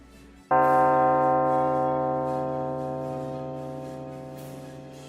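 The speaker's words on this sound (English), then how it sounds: "The screaming bell does go off" Screaming Bell from a Warhammer Skaven tabletop battle, a single loud bell strike with a rich metallic ring that sustains and slowly fades over several seconds, no talking.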